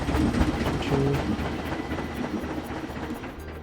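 Roller coaster train in the video game Planet Coaster, a loud rumbling roll with faint rhythmic clacking of wheels on track, strongest at first and slowly fading as the train moves away, with no voices over it.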